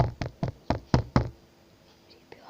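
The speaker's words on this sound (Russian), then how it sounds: "кто-то стучится" Someone knocks on a door with six sharp, evenly spaced raps in quick succession, loud and close, followed by a quiet room with faint background noise.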